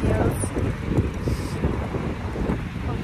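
Cold wind roars and gusts outside a house, a steady loud rushing noise that fills the whole stretch, with faint voices underneath.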